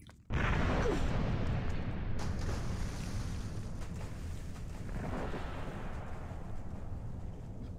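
Boat on rough water in the Tomb Raider 1 ending cinematic, a sudden loud wash of noise starting abruptly, then steady rushing surf and engine rumble that continues throughout with a swell near the end.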